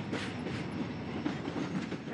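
The Shongololo Express, a passenger train in Africa, rolls steadily along the rails with a continuous broadband rumble and faint rhythmic clatter of wheels, moderately loud and unbroken throughout.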